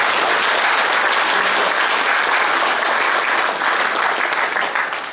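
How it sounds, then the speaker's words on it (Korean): Sustained loud audience applause fills the hall at a Korean Military Academy alumni association chairman inauguration ceremony, dense steady clapping throughout that fades slightly at the end. "장락성에 대해서 다시 한번 큰 박수 해줍니다."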